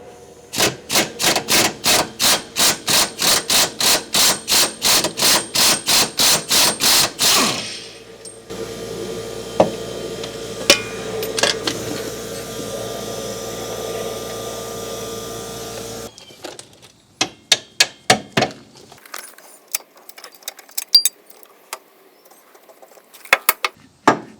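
A 17mm combination wrench loosens a rear upper control arm bolt on a 2008 Hyundai Elantra, giving a fast run of sharp ratcheting clicks, then a quiet stretch with a few scattered metallic knocks and a final burst of irregular clacks, close and with no talk.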